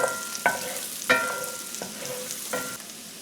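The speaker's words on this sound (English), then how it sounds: "Add garlic and saute this garlic." Garlic sautéing in oil in a pan, with a low steady sizzle broken by a few sharp stirring scrapes and clacks of a utensil, close by and with no talking.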